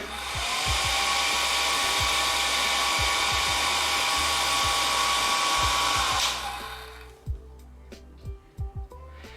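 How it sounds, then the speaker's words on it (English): A hair dryer runs loud and steady with a constant whine for about six seconds, then switches off, leaving a few faint clicks and knocks. "I'm gonna use a dryer."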